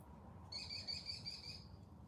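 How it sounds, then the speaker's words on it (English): Pet birds chirp indoors, a short burst of high, rapid tweets lasting about a second over a low background rumble, fairly faint and with no voices. "Trying to have a whole conversation with my birds."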